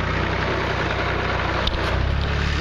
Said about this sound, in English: We have got a tractor that has pulled up.